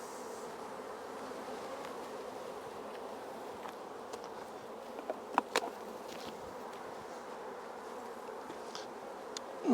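Steady, dense buzzing of many honeybees close by at an open hive as a super is lifted, with a few faint clicks and knocks over the continuous drone.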